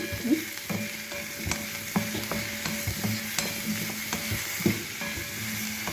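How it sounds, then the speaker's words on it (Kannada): Mushrooms fry in a pan with a steady sizzle, broken up by regular scraping and stirring strokes of a utensil and a few small clicks, close by and without any voices. "ಜಸ್ಟ್ ಫ್ರೈ ಮಾಡೋಣ ಈ ಥರ."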